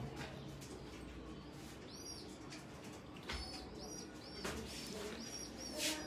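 Prince Kamangar pigeons, a pair of high-flying birds from Lahore, coo in soft repeated calls against a steady noisy background, with a few brighter chirps and faint flutters scattered through.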